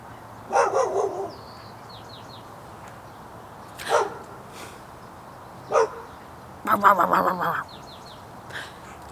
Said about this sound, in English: I'm just gonna say it with the dogs barking.